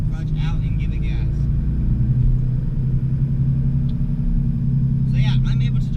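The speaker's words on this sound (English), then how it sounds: "clutch in, next gear, clutch out and give it gas" Steady, loud engine rumble from a manual car being driven, holding a low drone throughout with no clear gear-change break, while a person talks over it at the start and end.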